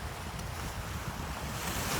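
Wind gusting steadily against a microphone on a river shore near the mouth of the Demerara River, a constant broad rumbling roar with surf-like washing water beneath, no voices.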